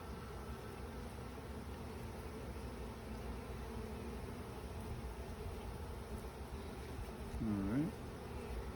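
Honey bees hum steadily around an open hive as frames are lifted out, a continuous near buzzing drone that swells briefly toward the end.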